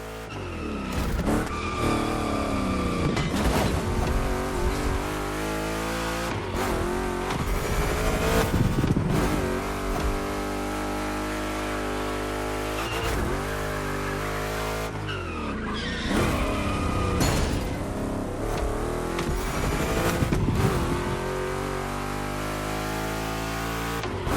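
Two Chevy big-block cars racing in The Crew Motorfest, a steady loud engine drone with rising and falling revs, gear shifts and tire squeal running throughout over music.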